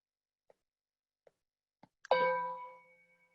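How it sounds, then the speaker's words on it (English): Three soft taps precede one clear strike of a meditation bell, which rings out with a pure sustained tone that slowly fades in a quiet room. "I'm going to ring the bell."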